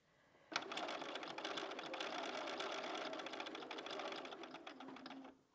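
A sewing machine stitching binding onto a quilted Christmas tree skirt starts abruptly and runs at a steady, fast whir for several seconds, close and continuous, then stops.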